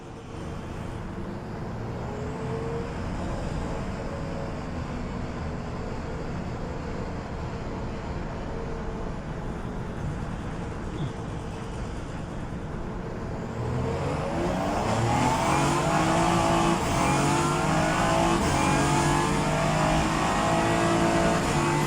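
Race car engine in the rFactor sim, heard from outside, a fairly quiet steady drone that swells into a louder rising rev partway through, continuing alone without talk.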